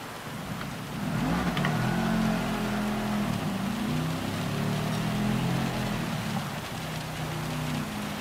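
A touring race car in a video game at Autopolis circuit on a wet track, its engine droning and revving steadily up close under a hiss of rain spray, with no talk.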